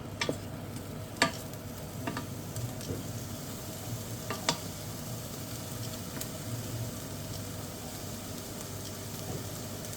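Onions sweating in a pan for carrot and sweet potato soup, a low steady sizzle with a few sharp spoon scrapes and taps as they are stirred, no talking.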